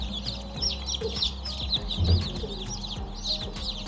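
Newly hatched chicks peep rapidly in an incubator hatching basket, a dense chorus of high, overlapping chirps close by with faint machine hum and occasional knocks beneath.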